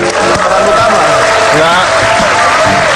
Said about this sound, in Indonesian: tepuk tangan clap your hand.